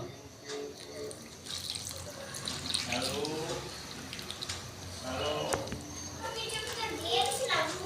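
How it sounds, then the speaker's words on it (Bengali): Warm water poured into a bowl to mix batter for fried oil pitha, a splashing, gurgling trickle in short bursts beneath someone talking. "এই জায়গায় দিচ্ছি আমি একটু উষ্ণ গরম জল"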